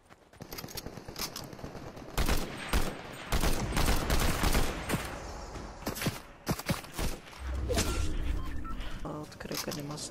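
Loud bursts of automatic gunfire in a shooter video game, clusters of sharp shots mixed with footsteps and movement, while someone speaks throughout.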